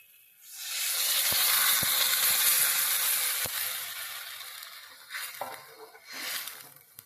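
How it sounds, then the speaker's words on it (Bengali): Warm water poured into a pan of potato and pointed gourd curry sets off a loud sustained hiss and sizzle that gradually fades. Later come softer splashes and stirring bursts, all close. "এইভাবে আমি জলটা এর মধ্যে দিচ্ছি যাতে সেদ্ধটা সুসিদ্ধ হয়ে যায়"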